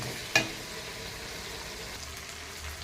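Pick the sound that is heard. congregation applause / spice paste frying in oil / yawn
spice paste frying in oil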